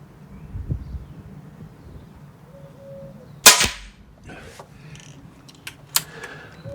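An Air Arms HFT 500 .177 PCP air rifle fires once in a garden, a sharp loud crack over quiet outdoor background, followed by a couple of fainter clicks and a later softer snap.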